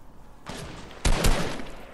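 Gunfire in the video game Fortnite, a couple of loud sharp shots close together after a quiet start, ringing briefly.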